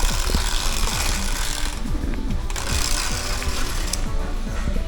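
A steady, noisy mechanical clatter with rapid repeating rattles and squeaks, like a wobbly cart wheel rolling continuously over a hard floor.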